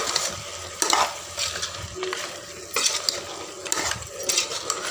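Mutton sautéing in a pan for a Sunday kuzhambu and varuval, sizzling steadily while a spoon scrapes and stirs in repeated bursts, close and fairly loud.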